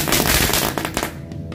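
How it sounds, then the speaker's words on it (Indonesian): A spinning lotus-flower firecracker goes off with a loud, dense crackling burst that fills the moment, then thins and fades toward the end. "Ini mercon bunga teratai bisa berputar seperti gangsing guys."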